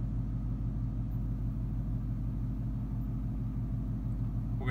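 A 2015 Ford Mustang GT (S550) with a Lund tune idles steadily, a loud, close, even low rumble pulsing rhythmically throughout with no revving.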